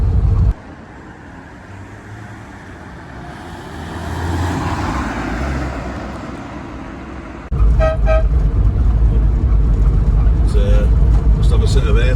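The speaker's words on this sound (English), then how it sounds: "Must have a set of air horns fitted there" Loud, sustained blasts of air horns fitted to a classic Bedford Chevette van sound close by after a stretch of idling engine and traffic noise, with a person talking nearby.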